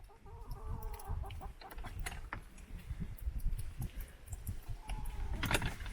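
Chickens cluck and murmur in an enclosed coop at night, mixed with clanking and creaking of the coop door latch being locked nearby.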